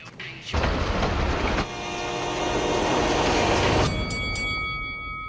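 A train rolls along railroad tracks with a loud, dense rumble that kicks in abruptly, mixed with high metallic squeals and ringing tones near the end, with no speech.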